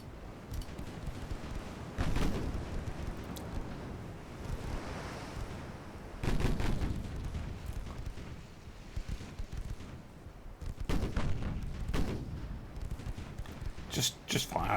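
Heavy naval guns fire in a warship battle game featuring a French battlecruiser and dreadnoughts, with several loud booming bursts spaced a few seconds apart over a constant rushing, wind-like background while a voice talks.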